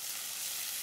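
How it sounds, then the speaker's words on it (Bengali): Onion and ginger paste sizzles in a karai on a stove, a steady soft hiss of frying that holds evenly through the short stretch with no voices. "চুলায় করাই দিলাম। পেঁয়াজ বাটা, পেঁয়াজ ও আদা বাটা দিয়ে দিছি"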